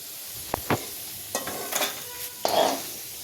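Dagadphool (stone flower) spice fries in hot oil for homemade goda masala, giving soft hissing sizzle with a few sharp crackling bursts and louder spurts near the end, close by and otherwise quiet.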